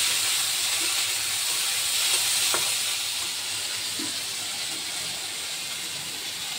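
Panch phoron spices fry in hot oil in a home kitchen pan, a steady close sizzle with a faint scrape of stirring partway through, no talking.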